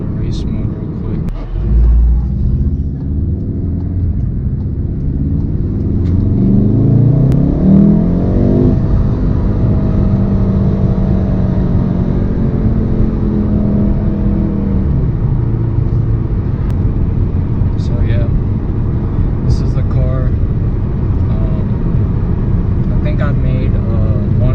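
A Volkswagen Golf R MK7 in race mode revs up, its engine note climbing then holding in a steady, close rumble under the cabin, with a voice talking over it.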